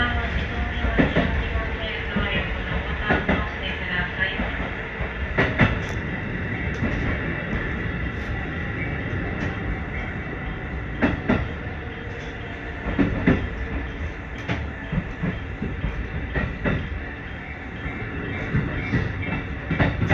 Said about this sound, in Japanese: まもなく電車は終点和田岬駅に到着。